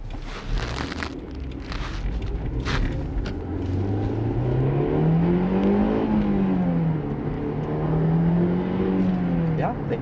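A 2008 Honda S2000 engine rises and falls in pitch as the car accelerates through the gears on a road test drive, a steady close interior drone with no talk over it.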